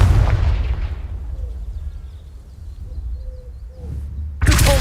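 Confringo blasting spell in the Hogwarts Legacy video game, a loud explosive burst at the start fading into quiet ambience with faint chirps, then a second sharp blast hitting at the very end.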